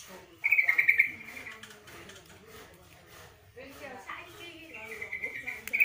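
A Javan myna held in hand while being tamed gives sharp, high chattering calls in short bursts at the start and near the end, while a person talks close by.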